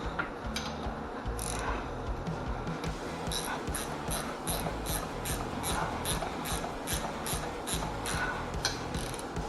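A bolt threading into a freshly tapped hole, heard as steady, close ratcheting and grinding with regular metallic ticks throughout and no voices.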